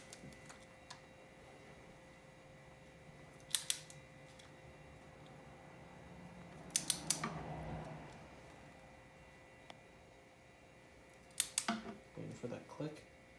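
Torque wrench clicking while tightening the head bolts on a 1986 Honda ATC 200x during a head gasket replacement, sharp metallic clicks in three separate bursts, near and fairly faint over a steady background hum.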